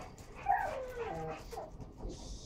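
An American Staffordshire terrier makes low rumbling growls mixed with whimpering yips at close range, a brief strained vocalization against faint room noise.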